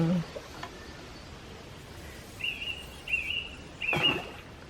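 Birds call in the Marais Poitevin marsh in western France: a few short, high chirping phrases ring out over a quiet outdoor background.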